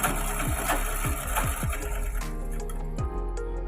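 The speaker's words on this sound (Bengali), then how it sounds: "ঘুরিয়ে মেশিনটা চালু করবে। চালু করলেই দেখো বন্ধুরা, কত সুন্দর সুতো গোটানো হচ্ছে।" Sewing machine running steadily while winding thread onto a bobbin, a close, loud whirring hum with rhythmic mechanical clicks that shifts pitch near the end.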